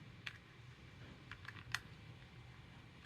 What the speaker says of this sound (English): You just clip it on.